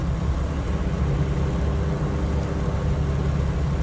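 Racing car engine in Project Cars 2, a steady loud low drone held at an even level throughout, with no talking.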